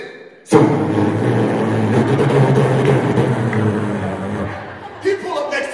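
A voice imitates a booming car stereo, a loud, sustained low rumbling drone with pulsing bass that holds for several seconds before tapering off.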